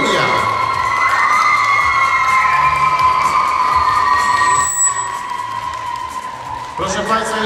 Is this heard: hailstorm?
no